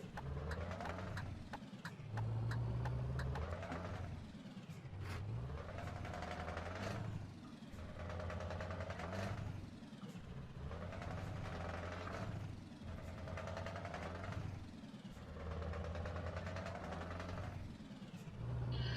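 A heavy truck engine in Euro Truck Simulator 2, droning loud and steady after a downshift, with its pitch dropping and climbing in repeated surges across the whole stretch and no talk.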